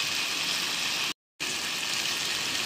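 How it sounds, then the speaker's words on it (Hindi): Green coriander frying in a pan for Pakistani-style Singaporean rice gives a steady, dense, close sizzle that cuts out briefly for a moment and then resumes at the same strength. "थोड़ा सा फ्राई करूँगी इसको"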